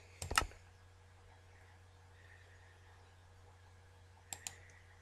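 A few quick clicks on a computer keyboard during Minecraft play, a short burst at the start and a couple of taps near the end, faint and close over a low steady hum.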